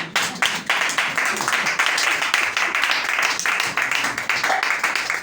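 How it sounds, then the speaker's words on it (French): Congregation applauding at a church gathering in Côte d'Ivoire, a steady dense patter of many hands clapping close by, continuous and fairly loud throughout with little pause. "Acclamez pour moi."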